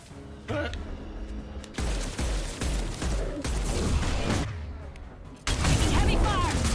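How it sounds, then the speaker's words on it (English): Gunfire in the Mass Effect 2 video game, dense and sustained bursts with booms mixed into a loud, busy battle soundscape, running under occasional talk. "Heavy fire!"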